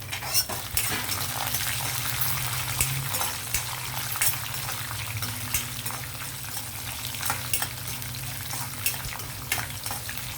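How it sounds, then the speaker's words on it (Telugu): Pieces frying in oil in a pan while cooking tamarind-leaf pulihora, a steady crackling sizzle with occasional clicks of a spoon stirring, close and continuous with no talk. "ఇవి కొంచెం వేగనిద్దామండి ఇంకా కలర్ రావాలి మనకి"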